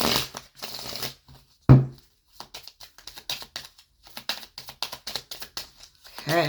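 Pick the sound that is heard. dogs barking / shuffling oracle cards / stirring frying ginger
shuffling oracle cards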